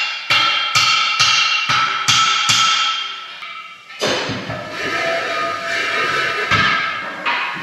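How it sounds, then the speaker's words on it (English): Iron wheels hammered onto arbors, a close series of sharp metallic blows in a quick rhythm, then denser clattering and scraping of metal parts, with no talking. "we have to hammer them on."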